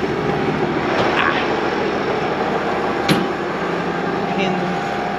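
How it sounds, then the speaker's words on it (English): A tractor hauling hay backs up quickly and brakes hard, its engine droning steadily throughout with a sharp knock about midway, the drone running on unchanged after it. "I'm gonna try to back up a little quickly here and see if I can just slam on the brakes"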